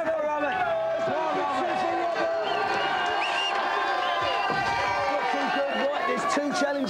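Studio audience cheering on the GamesMaster team championship final, a loud, continuous crowd roar of whoops and shouts held steady throughout, with voices mixed in.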